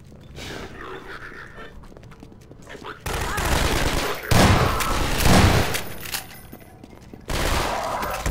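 Gunfire in the Half-Life 2 video game, bursts of rapid shots and rattling volleys in loud clusters, close and sustained over several seconds, with a voice faintly under the shooting.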